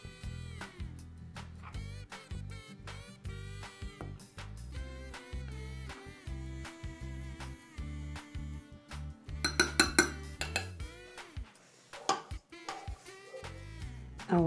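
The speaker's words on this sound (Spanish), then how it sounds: "Esto lo vamos a mezclar y lo vamos a pasar por el colador." A utensil mixes dry cake ingredients (salt, cocoa powder and leavening) in a bowl for a chocolate cake, with scattered light clinks and scrapes, busier near the end, over steady background music.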